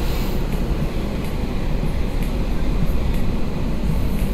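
JR Kyushu Futatsuboshi 4047 sightseeing train pulling into a station platform, a steady loud low rumble of rolling wheels and motors with faint high squeals above, continuous without pauses.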